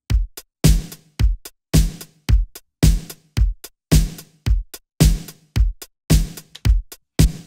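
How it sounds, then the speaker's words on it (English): 1980s drum samples from a sample pack, several kicks and snares, play a tight, loud looping groove with crisp hi-hat ticks in a steady repeating rhythm and no talking. "There's a bunch of samples in here, multiple kicks, multiple snares"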